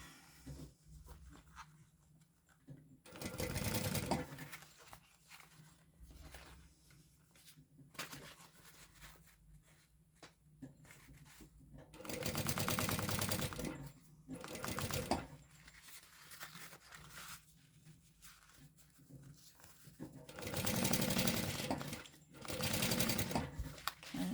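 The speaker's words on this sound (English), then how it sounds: "I'm just going to baste the whole thing" A sewing machine bastes the lining of a sling bag, running in several bursts of steady stitching separated by quiet pauses, close and fairly loud.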